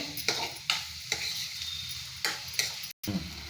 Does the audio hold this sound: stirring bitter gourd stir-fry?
yes